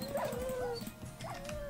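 Dogs barking and yipping in a Minecraft modpack game, several sharp close barks and whines in quick succession, fairly loud and without talk.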